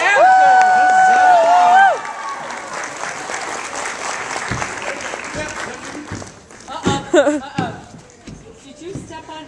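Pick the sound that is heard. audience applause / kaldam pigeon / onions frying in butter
audience applause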